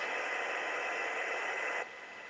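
A hair dryer blows a steady, close airy whoosh over a fresh paint stripe, then drops suddenly to a lower, softer setting near the end.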